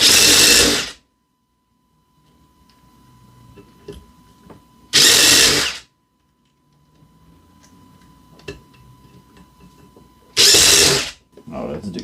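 Ryobi cordless drill driver driving 3/16 Tapcon screws in three loud, roughly one-second whirring bursts, separated by quieter stretches of handling clicks and faint background noise.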